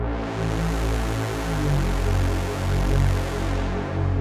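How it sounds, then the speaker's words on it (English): Synth bass preset with its filter cutoff opened up, giving a thick, buzzing low supersaw tone that drones steadily with a gently pulsing swell, loud and full with no talking. "It's actually sounding like a really low super saw."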